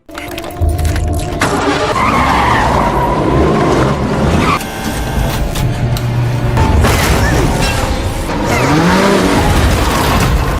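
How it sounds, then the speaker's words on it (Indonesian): A car skids during a frantic horror-film escape from a parking lot. Loud engine roar and tire squeals come in surges with scraping and rumbling, dense and close throughout. "mobilnya pun malah selip"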